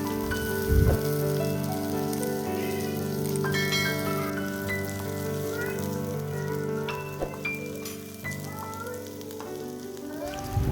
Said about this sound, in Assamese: তেল গৰম হোৱাৰ লগে লগে তেজপাত, শুকান জলকীয়া, কাটি থোৱা পিঁয়াজ আৰু কেঁচা জলকীয়াটো দি ৰঙচুৱা হোৱালৈকে ভাজিম।